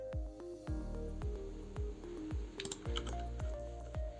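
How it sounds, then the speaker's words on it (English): Computer keyboard keys pressed one after another in a quiet room, several distinct close clicks spaced about half a second apart, with no talking. "press E on your keyboard"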